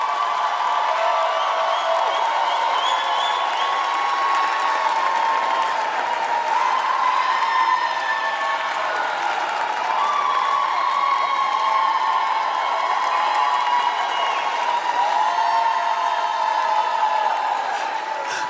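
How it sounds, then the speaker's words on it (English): At a centennial kickoff celebration, a large crowd claps and cheers in a continuous, loud wash, with whoops and raised voices riding on top and sustained tonal shouts running throughout. "Please give her a round of applause as she comes."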